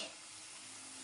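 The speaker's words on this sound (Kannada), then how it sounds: "ಇದು ಚೆನ್ನಾಗಿ ಫ್ರೈ ಮಾಡ್ಕೊಳ್ಳಿ." Ground spices including turmeric, coriander powder and chili powder fry in a pan for brinjal gojju, a soft continuous sizzle and hiss, faint and steady throughout.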